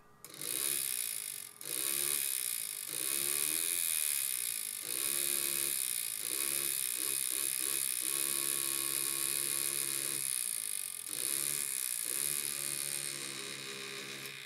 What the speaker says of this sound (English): I should be able to throttle the motor with this switch